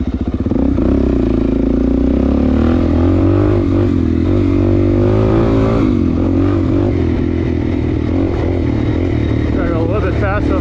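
A Suzuki DRZ400 dirt bike is ridden nearby, its engine loud and continuous, rising and falling through revs with clattering mechanical noise and no talk.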